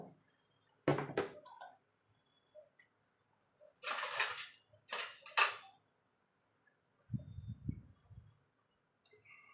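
Metal spoon scraping and knocking against a pan as milk is stirred while reducing into kheer, in a series of short scrapes and clinks separated by quiet gaps, with one low thud near the end.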